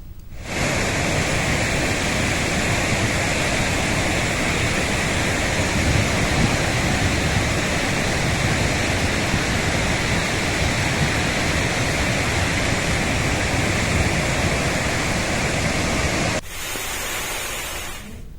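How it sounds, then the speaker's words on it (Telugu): Floodwater rushes out through a raised gate of a dam reservoir in Telangana, a loud, steady, broadband roar that holds unbroken for about sixteen seconds before dropping to a somewhat lower rush. "ప్రాజెక్టు గేటు ఒకటి ఎత్తి రెండు వేల నలభై తొమ్మిది క్యూసెక్కుల నీటిని దిగువకు వదులుతున్నారు"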